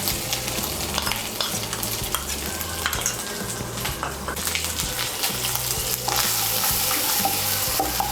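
A spice paste of turmeric, cumin and chilli powder sizzles in a hot frying pan as it is stirred, with steady crackling frying and scraping strokes, and the sizzle brightens and intensifies partway through.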